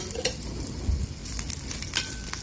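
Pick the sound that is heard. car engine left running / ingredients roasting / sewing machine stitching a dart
ingredients roasting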